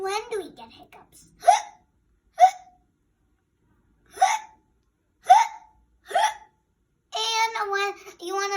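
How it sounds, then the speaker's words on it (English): A child hiccups repeatedly, five or six sharp, close, loud hiccups at irregular intervals, with brief vocal sounds before and after. "I a little bit have hiccups today"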